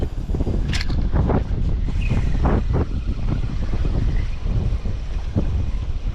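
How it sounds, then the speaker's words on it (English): Strong wind whips across water around a fishing spot, producing loud, gusty buffeting and rumbling against the microphone, with a few sharp knocks and no speech. "Whoa, that wind is a whipping."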